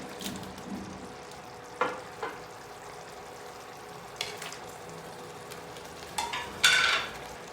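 Pieces of already-fried chicken and four cut green chillies sizzle in a pan, a soft steady hiss broken by a few sharp clinks and scrapes of stirring.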